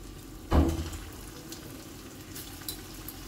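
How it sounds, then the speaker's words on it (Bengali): Banana flower fritters dropped one at a time into hot oil: a sudden burst of sizzling as a fritter hits the pan, fading to a soft, steady bubbling fry. "তেলটা গরম হয়ে গেছে, এবার একটা একটা করে আমি বড়াগুলো ছেড়ে দেব"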